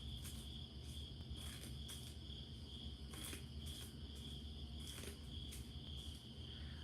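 Crickets chirp at night in a steady, continuous high trill with a faint pulsing rhythm. The sound is moderately near and quiet, and no one speaks over it.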